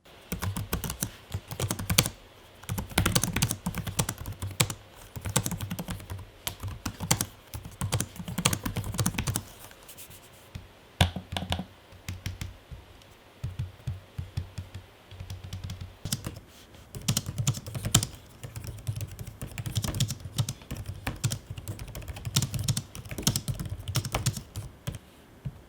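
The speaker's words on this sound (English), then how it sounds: "Here is an audio sample of the trackpad and keyboard from each laptop." Keyboard typing and trackpad clicking on gaming laptops, an Acer Nitro 5 and a Lenovo Legion 5i, heard as close, rapid clattering keystrokes in dense bursts with a brief quieter pause in the middle, and no talking.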